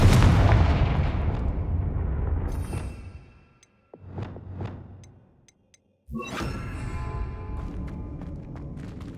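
The Confringo blasting spell explodes in Hogwarts Legacy with a heavy, roaring blast that trails off into rumbling debris, then a short crackle, followed by another loud burst and scattered clatter.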